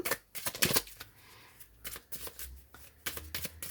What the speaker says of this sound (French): Je vais tirer 3 cartes du petit oracle des sorcières.